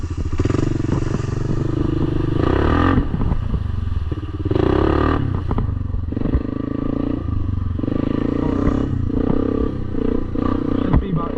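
A quad four-wheeler tears through mud, its engine roaring loud and close with repeated revving surges, rattles and splashy clatter over the whole stretch.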